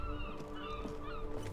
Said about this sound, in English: Fucking bird noises.